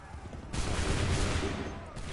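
A volley of massed musket gunfire in Assassin's Creed 3, a loud, sustained crackling roar of many shots lasting over a second and then fading into rumble.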